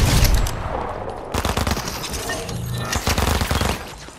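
Loud, close gunfire as players shoot in Fortnite, with dense automatic bursts and rapid clusters of cracking shots repeating throughout, broken by short gaps.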